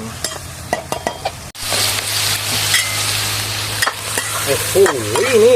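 Spicy field eel curry is stir-fried in a pan, starting with a sudden loud burst of sizzling that continues as a steady, close fry with scraping stirs, while a voice talks lightly at the start and end.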